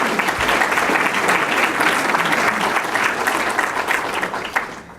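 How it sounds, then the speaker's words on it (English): Loud, dense audience clapping in a hall after a speech by the Cook County State's Attorney, steady and full for several seconds before tapering slightly at the close. "You can clap for that."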